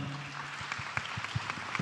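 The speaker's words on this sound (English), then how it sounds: "A round of applause for them" Applause for a panel at a national data privacy conference, a steady wash of clapping hands with a few sharper claps standing out, moderately loud and continuing without talk.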